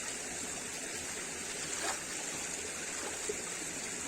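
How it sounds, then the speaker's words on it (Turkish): Water flows steadily in a small forest creek, a constant gentle rushing that stays even throughout with no voices. "Son olarak da deremizden suyumuzu içelim."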